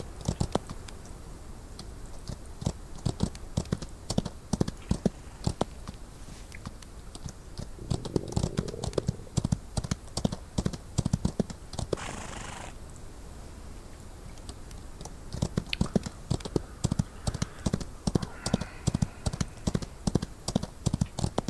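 A pony's hooves clip-clop in a quick, steady patter of sharp close taps. The rhythm runs through the whole stretch, with a brief scrape partway through and a short quieter gap before it picks up again.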